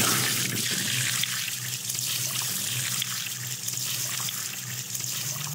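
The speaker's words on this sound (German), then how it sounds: "Ich hole noch mal eben Wasser." A tap runs in a steady, hissing stream as water is fetched outdoors during a pike fishing trip, loud and close with no talking.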